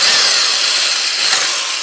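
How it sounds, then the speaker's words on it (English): A power drill bores holes into the plastic shell of a Nerf Stryfe blaster, giving a loud, steady, close-up whirring grind for the whole short stretch. "I chose simply to line it up and take my power drill and just"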